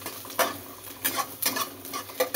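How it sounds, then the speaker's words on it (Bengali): Onion fries with black cumin (kalonji) in a pan. A soft sizzle runs beneath several sharp scraping stirs of a spatula against the metal, close and intermittent; no talk. "একসঙ্গে কালো জিরে পেঁয়াজ একটু ভেজে নিচ্ছি"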